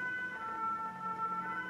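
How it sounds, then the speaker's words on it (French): An emergency vehicle siren passes outside, heard steady and moderately faint through walls during a quiet indoor crochet session, a sustained tonal wail with no talk over it. "Merci la sirène, c'est agréable."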